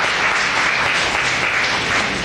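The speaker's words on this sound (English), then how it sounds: "why don't you please clap?" A seated audience applauds at a lecture, with dense, steady clapping filling the room from start to end, loud and continuous with no voices over it.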